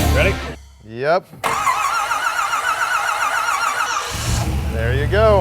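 A Pontiac Firebird engine cranks briefly and fires up, then settles into a steady, fairly quiet idle, with people talking over it before and after the start.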